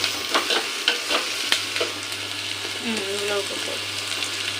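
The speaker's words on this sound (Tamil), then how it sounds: "நம்ம நல்லா கலக்கி விட்டுக்கோங்க" A spoon stirs green turkey-berry (sundaikai) kulambu with onions and salt frying in a pan, giving a steady close sizzle with scraping stir strokes; a voice is briefly heard partway through.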